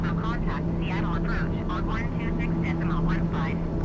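A light aircraft engine drones steadily in the cabin as a little throttle is added while leveling out in flight, a constant close hum running under a person speaking throughout.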